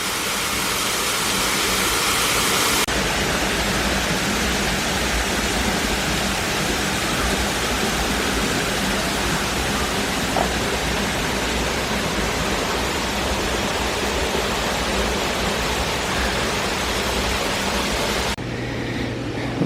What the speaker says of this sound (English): My nerd brain was just telling Em how many gallons per hour do those giant fountains pump, I wonder.